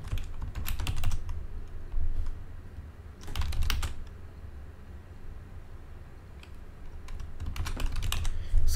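Keys being typed on a computer keyboard in bursts of quick clicks separated by short pauses, fairly close and quiet over a steady low background hum, with no talking.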